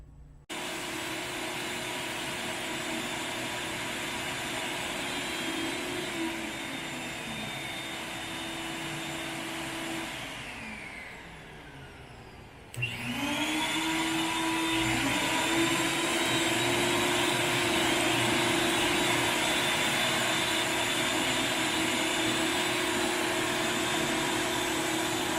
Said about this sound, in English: We'll go ahead and kick the vacuum on